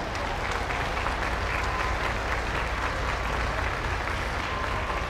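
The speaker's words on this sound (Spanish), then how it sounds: "Quiero pedir un aplauso a Sol de María Bañuelos Orozco." Sustained audience applause at a community orchestra choir concert, a dense steady clatter of many hands clapping for several seconds with no break.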